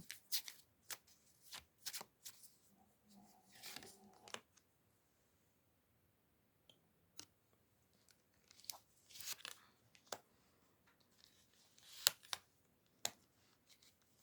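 Playing cards being shuffled in several bursts of riffling and snapping, with short pauses between, close and fairly quiet, no talking.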